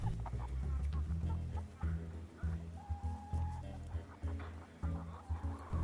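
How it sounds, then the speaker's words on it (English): Backyard chicken flock of mixed breeds, including olive eggers and black copper marans, clucking steadily at close range, with a brief higher squawk partway through and a rooster present. "So we finally moved our 10 pullets out with the big chickens and split them between the two flocks."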